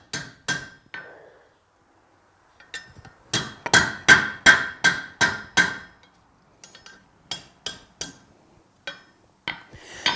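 Hammer blows ring out on a forged fork's rat tail held on an anvil horn, sharp metallic strikes in quick bursts of several hits separated by pauses, loud and close.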